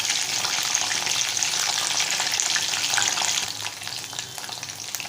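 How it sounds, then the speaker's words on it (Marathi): Mushroom lollipops frying in oil over a low flame, a steady bright sizzle throughout that eases slightly toward the end, close and without talk. "स्लो गॅसवरती आपण लॉलीपॉप तळून घेऊया"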